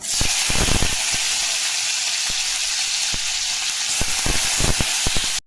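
Chopped flat beans hitting hot oil tempered with five-spice and dried red chilli, giving a loud, continuous frying sizzle with faint clicks of stirring throughout.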